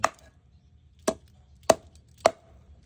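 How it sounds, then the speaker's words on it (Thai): Raw chicken chopped into bite-size pieces with a cleaver on a board, four sharp isolated thwacks spaced about half a second to a second apart, close and loud against a quiet background. "หั่นเป็นชิ้นพอดีคำนะฮะ"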